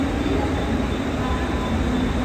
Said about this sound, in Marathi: बरोबर 5:44 ला ट्रेन आली.